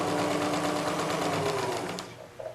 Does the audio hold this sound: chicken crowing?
no